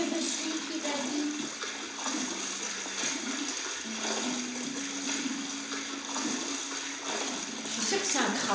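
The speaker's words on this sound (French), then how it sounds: "Il y a des bulles partout." Underwater bubbles burble continuously while swimming in Animal Crossing: New Horizons, a steady watery gurgle with drifting tones and soft game music beneath.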